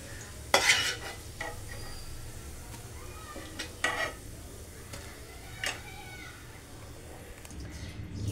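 Whole spices, bay leaf, cinnamon, cardamom and cloves, frying in a mix of ghee and oil for a vegetarian kofta curry, a low steady sizzle punctuated by a few sharp clinks and scrapes of a utensil against the pan.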